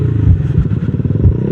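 A motorcycle engine idles and putters close by on a Philippine road, a low, loud, throbbing rumble with rapid uneven pulses and no speech over it.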